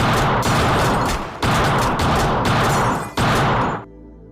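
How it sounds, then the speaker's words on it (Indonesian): Gunfire erupts during a nightclub shooting in the Indonesian film Serigala Terakhir, loud dense bursts of shots in three sustained waves that cut off abruptly at the end. "tiba-tiba ia ditembak oleh anak buah Ale"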